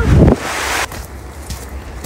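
Gusts of wind buffet the microphone near a glacier, loud at first then settling into a steadier rushing blow with a few short bursts.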